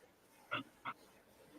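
Two short, soft yips or whimpers from a nine-month-old male puppy, close but quiet, spaced about a third of a second apart over faint background noise, with no talk.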